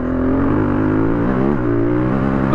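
A KTM 350 EXC dual sport motorcycle under way: a loud, close, steady engine drone with a slightly wavering pitch that holds throughout and is joined by no voices.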